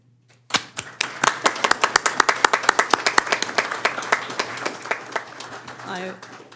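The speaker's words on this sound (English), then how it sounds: "Now you can clap." A Chino city council meeting audience claps after a vote, a dense burst of sharp handclaps starting abruptly and running steadily for several seconds before tapering, with a brief voice at the end.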